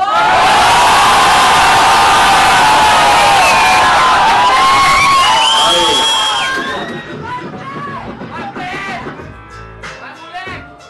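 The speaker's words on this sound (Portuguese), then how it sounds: "Olha a torcida nessa porra, hein" Loud crowd cheering and shouting at a freestyle rap battle, a dense roar with whoops that fades after about six seconds into scattered voices and chatter.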